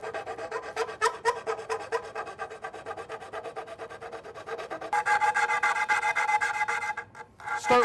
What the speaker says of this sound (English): start with a coarse sandpaper. This is 100 grit.